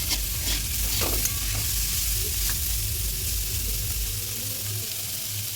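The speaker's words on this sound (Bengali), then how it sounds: "পাবদা মাছ ভাজা হচ্ছে।" Pabda fish sizzle and crackle in hot oil in a pan, a steady close frying hiss with a few spatters and stirring scrapes, no talk.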